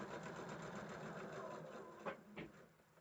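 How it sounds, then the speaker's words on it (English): A sewing machine stitches along a fabric seam line, a steady close whirring drone running without pause before a couple of brief knocks near the end. "I'm starting past the seam allowance, stitching on the seam, on the line."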